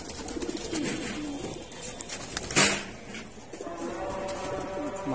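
Pigeons entering their loft coo in soft, repeated low calls, close by, with a sharp clatter partway through.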